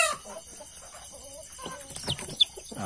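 A black mother hen and her chicks rest in a sheltered spot, giving a run of close, soft clucks and peeps with a brief sharper call near the end.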